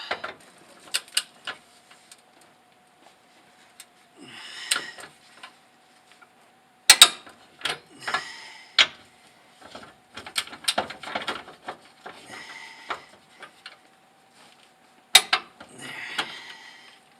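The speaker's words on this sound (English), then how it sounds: "now it's just a matter of torquing these back down. I got 51 foot-pounds." A ratchet or torque wrench on the suspension bolts of a third-generation Toyota Tacoma during a Bilstein 5100 two-inch lift install, tightened to 51 foot-pounds: scattered close, sharp clicking and ratcheting bursts with quiet gaps between, no talking.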